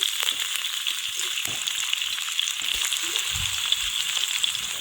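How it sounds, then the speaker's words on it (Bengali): Steady hiss of chopped onion frying in a pan, with soft stirring scrapes and light crackles, continuous and close. "এখন পেঁয়াজটা একটু লাল লাল করে ভেজে নেব"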